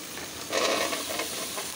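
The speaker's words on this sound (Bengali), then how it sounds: "পেঁয়াজটা ব্রাউন করে নিয়েছি। এখন এটার ভিতরে সমস্ত সবজিটা দিয়ে দেব।" Mixed vegetables, potato, yardlong beans and eggplant, dropped onto browned onions in a hot pan for a dal tempering, giving a sudden steady hissing sizzle, close and continuous, with no voices.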